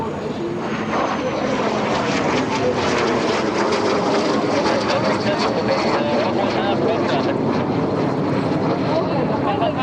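A pink jet flown by pilot Olga Stanikova passes overhead at the EAA AirVenture airshow, its engine a loud, continuous broadband roar that holds steady for the full stretch.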